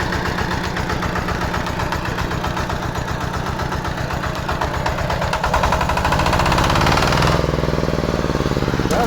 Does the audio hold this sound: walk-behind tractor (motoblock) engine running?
yes